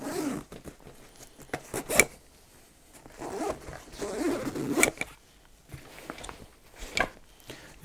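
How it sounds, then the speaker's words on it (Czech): A two-way zipper closes the main compartment of an MFH Travel MOLLE bag in several quick, close zipping strokes with short pauses between them and faint handling noise around them. "Hlavní komora je uzavíraná dvoucestným zipem."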